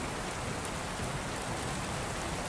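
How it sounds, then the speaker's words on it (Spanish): Steady rain falls continuously at an even, close hiss with no voices and no break in the downpour. "Durante unos segundos no hubo nada más que lluvia."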